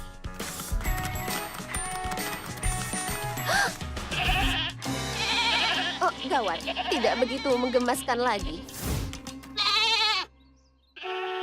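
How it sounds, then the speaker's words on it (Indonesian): Cartoon goats in a Barbie animation bleat repeatedly and loudly over lively background music, mixed with animated character dialogue and a brief mechanical clatter near the end. "Ayo, kambing."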